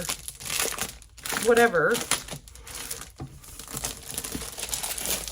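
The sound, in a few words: unwrapping plastic packaging of a craft product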